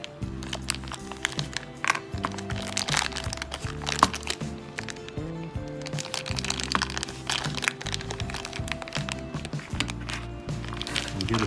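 Packaging around a Swiss Lucerne digital jump hour watch is unrolled and crinkled up close, making dense, continuous crackling and rustling with sharp little pops all the way through.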